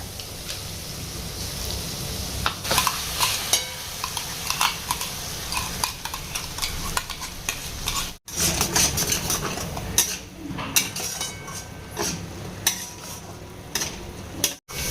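Onion, garlic and ginger cooking in butter in a pan alongside a little coriander, with steady sizzle and clinks of a utensil against the pan, stirring scrapes throughout, fairly close and with no talking.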